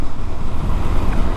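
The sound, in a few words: KTM Duke 390 BS6 motorcycle engine while downshifting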